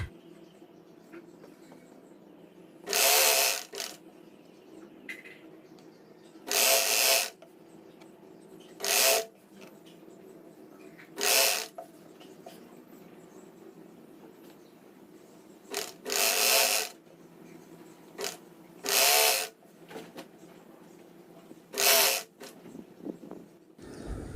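A sewing machine stitching a double-folded shirt hem whirs in about nine short, loud bursts separated by quiet pauses, with faint handling rustles of fabric between runs.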